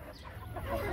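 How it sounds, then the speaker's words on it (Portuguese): A large caipira rooster clucks at a bustling bird and small-animal market in Teresina, Piauí, a few soft, close clucks over background chatter and market bustle. "Qual a raça desse galo? Caipira mesmo."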